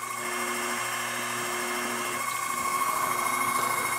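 A milling machine drills deeper into aluminum with a screw-length bit, giving a steady, close mechanical whine and hum with a constant pitch throughout, and no one speaking.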